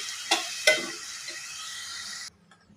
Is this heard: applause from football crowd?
no